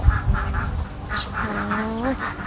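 Ducks on an egg-laying duck farm quacking near and loud, several overlapping calls in quick succession with a longer rising call near the end.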